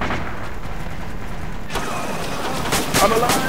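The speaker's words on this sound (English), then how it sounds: "I shot one." A video game battle carries gunfire: a muffled rumbling stretch cuts abruptly to sharper, brighter shots and crackling bursts near the end, while a player shouts excitedly over the action.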